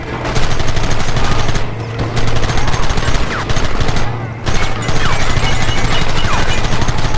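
Red Dead Redemption 2 gunfight with rapid, sustained machine-gun fire, loud and close, in long continuous bursts broken by two brief pauses, with shouting voices mixed in.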